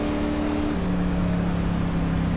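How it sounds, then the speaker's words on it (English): NASCAR A Class car in iRacing on Bristol dirt held at full throttle, a steady droning engine tone that shifts pitch partway through, continuous and fairly quiet with no talk. "because you're always like revving the engine at maximum"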